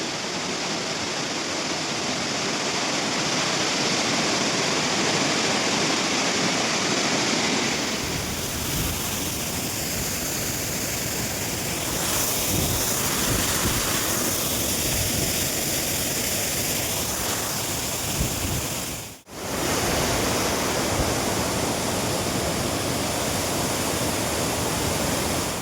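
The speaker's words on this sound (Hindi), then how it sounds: "पानी का फ्लो बहुत ज़्यादा था वहाँ पे" A strong flow of water roars steadily at a monsoon mountain stream or waterfall in a village, as a dense, constant rushing wash. It is loud and close throughout, with one brief dropout near the end.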